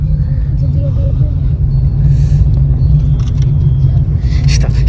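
A continuous low rumble fills the inside of a moving car on a drive toward Mukteshwar and Kainchi Dham, steady and loud throughout, with faint voices and small cabin sounds over it.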